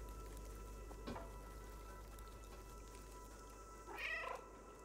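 A cat meows in the video game Stray, two short meows, the second louder and more drawn out, over a quiet bed of game rain and low ambience.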